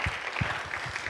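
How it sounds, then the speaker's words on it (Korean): A church congregation at a Friday worship service claps together in a short, steady burst of applause, a brief wash of many hands filling the room. "우리 하나님께 영광의 박수 올려드리겠습니다"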